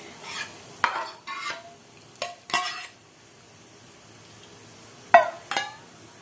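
A spoon stirs sambar mix in a pot for mosappu soppina sambar, giving short scraping, sloshing strokes in a few separate bursts with light metallic clinks and quiet gaps between.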